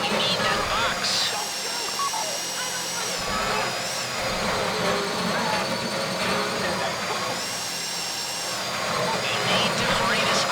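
Drill grinding into a safety deposit box during a bank heist in GTA Online, a loud, steady, whining mechanical drone that runs continuously with slight pitch swells.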